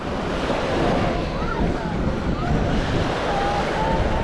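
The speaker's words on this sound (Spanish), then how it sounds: "de este sonido que hay cuando rompe la última olita." Small sea waves break on a beach without sand along a Caribbean shore, a continuous close wash of surf mixed with wind buffeting the microphone, loud and steady.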